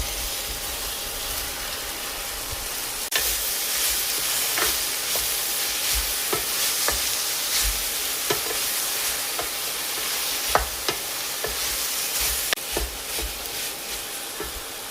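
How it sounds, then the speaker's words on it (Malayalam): Broccoli sizzles with browned onions in a hot pan, a steady frying hiss broken by scattered scrapes and taps of a stirring spoon, with no talking. "ഇനി നമ്മൾ കഴുകി വെച്ചിരിക്കുന്ന ബ്രൊക്കോളി ചേർക്കാം."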